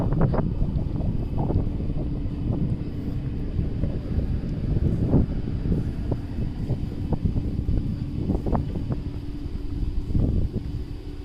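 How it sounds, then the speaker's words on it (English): Strong gusty wind buffets the microphone outdoors by a university building in Middlesbrough, UK, a loud constant low roar with rumbling gust peaks and no talk. "The wind is more, guys. I'm using the wind reduction also. Still the wind will be here, I think so."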